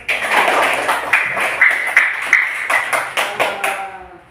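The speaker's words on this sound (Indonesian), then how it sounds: "Sekali tepuk tangan." Students in an Indonesian classroom clap in unison, a strong opening burst followed by a series of sharp, evenly spaced group claps that grow sparser, close and loud, with a brief ringing tone under it.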